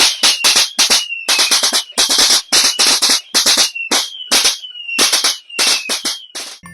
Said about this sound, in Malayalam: കുട്ടികൾക്ക് കയ്യിൽ വെച്ച് പൊട്ടിക്കാവുന്ന പൊല്യൂഷൻ ഇല്ലാത്ത ഇലക്ട്രിക് പടക്കം